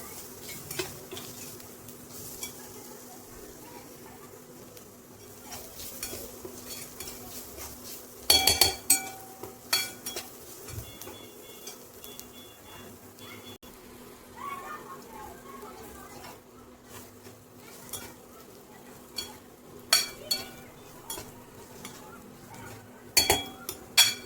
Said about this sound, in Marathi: फ्राय केल्यामुळे आपलं हे कारलं तेलामध्ये लगेच शिजतं.